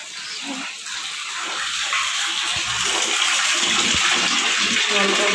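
Water gushes from a kitchen tap into a container filling up, a steady rushing splash that grows slightly louder over several seconds.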